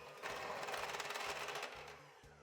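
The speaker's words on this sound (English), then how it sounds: "Now use your mixer to cream everything together again until it's completely combined." Electric mixer creaming butter cookie dough with egg yolk in a bowl, a steady buzzing whir running nearly continuously for a couple of seconds with no talk.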